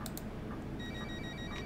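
A phone ringtone chirps repeatedly inside a MAN Lion's City double-deck bus on Berlin route 200, faint and somewhat distant over the steady low engine rumble.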